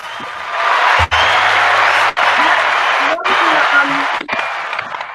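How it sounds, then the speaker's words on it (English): Steady wash of applause from a podcast audience, loud and continuous for several seconds with a few brief dropouts, with faint low tones underneath. "give him an applause"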